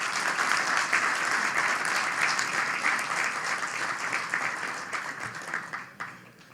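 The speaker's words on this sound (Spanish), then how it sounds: "para quienes pido un muy afectuoso aplauso." Warm, sustained applause from the audience at the Premio Rioplatense 2025 award ceremony, a dense steady wash of clapping that holds strong throughout, then thins and fades toward the end.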